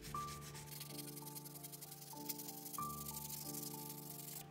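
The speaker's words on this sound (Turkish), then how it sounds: "Bir parça zımpara kullanarak da parçanın uç kısmını güzel bir şekilde yuvarlattım." Fine, rapid scratchy rubbing of sandpaper rounding the tip of a small brass rod, faint and continuous beneath steady background music.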